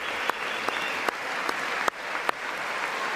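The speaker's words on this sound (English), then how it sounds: "So if you can get the generals to clap." A group of generals applauding at a military academy ceremony, steady clapping throughout with a few sharper, closer claps standing out from the crowd.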